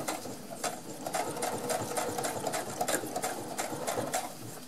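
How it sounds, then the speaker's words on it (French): Sewing machine stitching around the edge of a fabric foraging bag, a quiet continuous whirring with rapid needle patter and a few brief stops and restarts, heard alone. "je vais coudre comme ça tout le tour"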